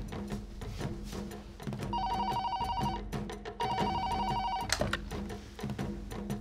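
An old-style telephone bell rings in repeated bursts, each trill lasting about a second with short pauses between, over steady background music and no speech.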